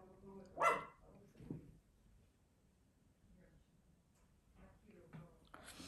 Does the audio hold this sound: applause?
no